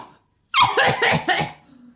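A woman coughs in a burst of four or five harsh, rhythmic coughs, close and fairly loud, ending in a short wheezy breath.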